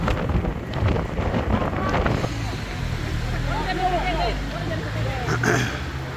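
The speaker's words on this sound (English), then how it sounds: "the headwind is so strong that I'm trying to hold the bike steady with one hand" Strong headwind buffeting a microphone while cycling, a loud continuous roaring rumble with gusty swells throughout.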